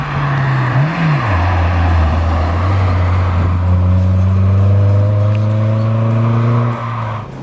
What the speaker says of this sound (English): This one is a little bit louder than standard. It's got a Jap speed exhaust